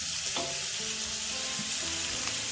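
Spring onion and cabbage are stir-fried for garlic vegetable fried rice, giving a steady, close sizzle with intermittent stirring scrapes and clatter throughout.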